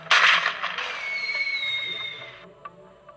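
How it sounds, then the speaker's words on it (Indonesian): A flare pistol fired skyward as a distress signal aboard a ship facing Somali pirates: a sharp burst followed by a sustained hissing whoosh that fades after a couple of seconds, with a few faint pops afterward. "Suar ditembakkan ke langit untuk memicu sinyal mara bahaya."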